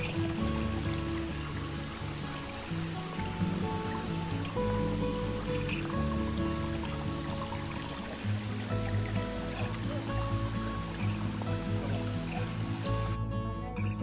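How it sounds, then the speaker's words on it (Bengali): A small waterfall pours in a natural setting, a steady full rush of splashing water that stays loud and even from start to finish, with no voices over it. "জলপ্রপাতটা ছোট হলেও এর জলের শব্দটা বেশ সুন্দর লাগছিল শুনতে।"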